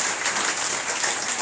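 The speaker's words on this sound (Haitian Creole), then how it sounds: "Applaudis mon Dieu pour message parole." A church congregation claps steadily in a short, dense burst of applause that fills the room evenly, with no voices standing out.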